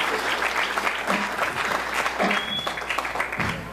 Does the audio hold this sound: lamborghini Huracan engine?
no